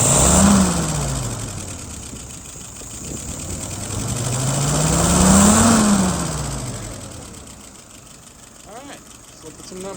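A WO 596S engine, a little over-fueled at first, revs up and falls back twice in slow, smooth swells, then settles toward idle with a few sharp knocks near the end.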